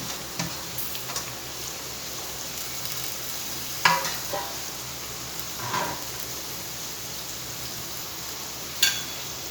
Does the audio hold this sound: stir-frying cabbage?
yes